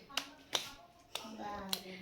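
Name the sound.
child clapping hands during prayer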